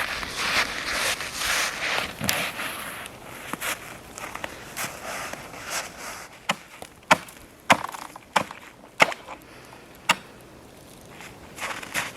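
Ice on a frozen oxbow lake of the Neman river crunching and cracking underfoot in a wild forest setting, a run of sharp, close snaps and crackles, sparse at first and then a quicker cluster of loud breaks, with no talking.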